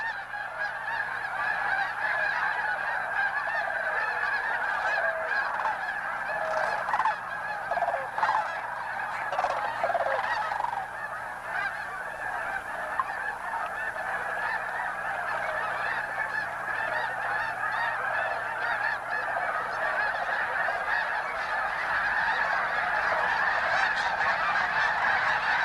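A large flock of snow geese honking continuously at a wintering wetland refuge of shallow marshes and ponds, a dense overlapping chorus of calls close and far, steady throughout with no voices.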